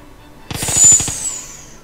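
A burst of automatic gunfire in PUBG Mobile, about eight rapid evenly spaced shots with a ringing high tail, fairly loud against a quiet background.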